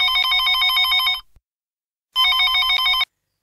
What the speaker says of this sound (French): Nous allons appeler Simonette, une dame qui vit dans les hauteurs de Rouge Goutte.